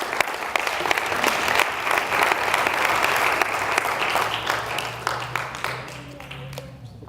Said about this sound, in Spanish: Dele palmas al Señor.